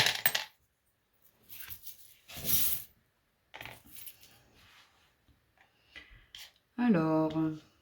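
Small metal charms are tossed down for a divination reading, giving a few brief clinking, jingling impacts between pauses, with someone speaking French around them.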